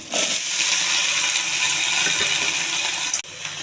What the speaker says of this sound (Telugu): ఈ బెండకాయ వేసేయండి.